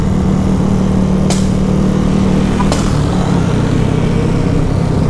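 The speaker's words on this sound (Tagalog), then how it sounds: "Namamaril yung pipe niya." A motorcycle exhaust pipe backfiring during a Raider FI versus Sniper 200 race, two sharp cracks about a second apart over a loud, constant engine drone.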